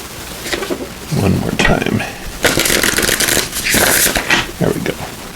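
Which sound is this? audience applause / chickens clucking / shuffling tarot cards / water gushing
shuffling tarot cards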